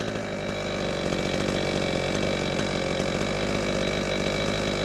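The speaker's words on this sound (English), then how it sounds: "the brush cutter is attached here on the hip" A heavy-duty brush cutter worn on a hip harness runs with a loud, steady, buzzing engine drone close by, continuous throughout without speech.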